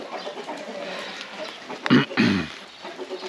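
Backyard hens on an elderly grandfather's village farm in Romania, including broody hens, let out two short, close clucking bursts in quick succession over quiet background noise.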